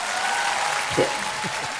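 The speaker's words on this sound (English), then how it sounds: "let's get that a round of applause real quick" Audience applause during a live leadership discussion session, a steady, fairly loud mass of clapping throughout, with a faint voice briefly audible underneath.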